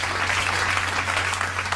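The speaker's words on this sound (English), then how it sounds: "Clap away." Studio audience applause on a television talk show, a thick, even burst of many hands clapping together, sustained and loud for a couple of seconds over a low steady hum.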